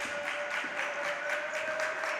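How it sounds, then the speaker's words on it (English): A crowd cheers and claps in a small gym during a girls' high school basketball game, Auburndale at Newman, as a steady, continuous wash of noise that holds throughout at moderate loudness. "Newman crowd makes some noise in the small gym"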